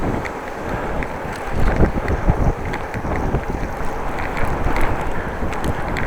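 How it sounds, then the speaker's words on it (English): Gusty wind buffets a cyclist on a Dutch bike on a blustery, drizzly day. The rushing is loud and constant, swelling in stronger gusts, with no voices. "It's windy, gusts of wind."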